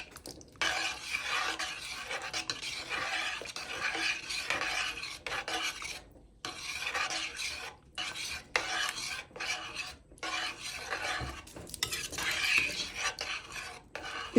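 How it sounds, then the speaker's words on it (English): Ginger potato curry is stirred in a pot with steady, repeated scraping and rasping strokes of a utensil, close and continuous with brief pauses between bursts. "I'm going to mix it until the potato comes to boil."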